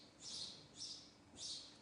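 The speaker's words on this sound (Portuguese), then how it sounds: "Esses passarinhos enchem o saco." Small birds in Switzerland give three faint, high chirps, evenly spaced and heard alone against quiet background hiss.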